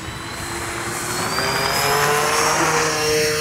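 A Dynam Cessna 310 Grand Cruiser RC model airplane takes off with a loud, sustained twin electric motor whine that climbs in pitch, heard close and without talk.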